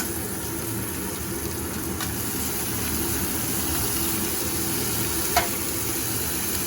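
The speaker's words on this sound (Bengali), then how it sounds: "একসঙ্গে তিনটে ভাজবো, পেঁয়াজটা আর আলু ফুলকপিটা।" Steady sizzling of onion, potato and cauliflower frying together in a pan, a continuous hiss with an occasional clink of a utensil.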